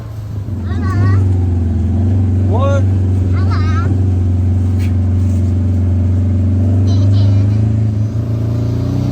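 A four-wheel-drive vehicle's engine drones loud and steady with a deep low rumble, rising slightly as it's pushed, while voices shout over it.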